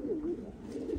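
Racing pigeons coo nearby in a loft during moulting season, a soft, low, wavering double coo that rises and falls twice within a second, faint and alone.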